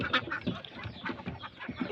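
Domestic ducks kept at a rural home quack in a quick, irregular chorus of raspy calls, close and moderately loud with no talking.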